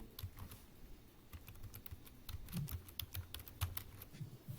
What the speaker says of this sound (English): So, I type the name.